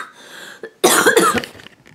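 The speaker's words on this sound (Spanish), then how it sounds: "¡Oh, tengo una tos!" A loud, harsh cough up close, a couple of rough bursts run together, then quiet.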